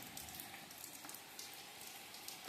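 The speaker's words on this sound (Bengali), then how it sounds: "আর সকাল থেকে চলছে বৃষ্টি, টানা বৃষ্টি।" Steady rain falls across a village, a dense continuous hiss of drops on surfaces with small irregular patters, moderately quiet and unbroken, no voices.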